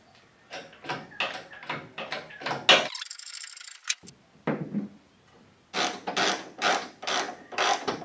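A hydraulic jack pumped by hand under a 1970 Mercedes 220 W115 in a workshop: a run of close, regular rhythmic strokes with metallic clicks, a brief pause, then another steady series of pumping strokes.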